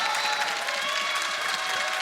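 A large crowd at an LEC esports match in Berlin claps and cheers in a dense, steady roar of applause that stays loud and constant throughout.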